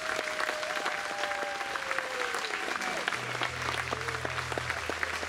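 A concert audience at a folk festival in Abbotsbury applauds steadily, a dense crackle of many hands that holds the whole time, with a voice speaking over it near the end.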